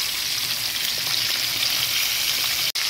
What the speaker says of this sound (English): I'm gonna let it fry for another 3 minutes.